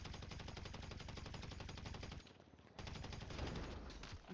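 Rapid automatic gunfire from a multiplayer PvP shooter game, loud and dense bursts that continue almost without break, dropping out briefly in the middle before resuming with scattered shots; no speech.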